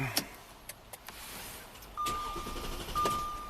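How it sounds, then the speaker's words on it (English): An Audi with a no-start fault and no fuel pressure has its ignition key turned, giving key clicks and jingles, then a steady engine-cranking whir with a faint electronic tone, fairly quiet and without talk. "turning the ignition key, cranking it, nothing happened"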